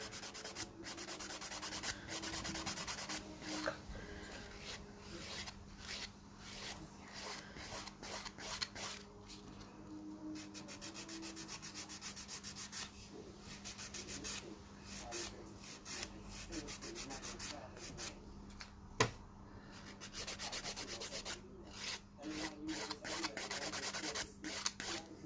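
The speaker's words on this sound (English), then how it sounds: "I don't normally have to do this much filing." A nail file rasps steadily against a sculpted stiletto acrylic nail near the cuticle, quick repeated back-and-forth strokes close up and continuous for the whole stretch, with no talking over it.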